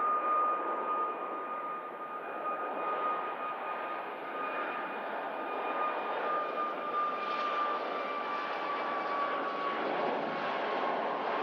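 A fixed-wing jet airliner taking off at Manchester Airport in snowy weather, a steady broad engine roar that holds at a constant level throughout, heard from a distance with no talking.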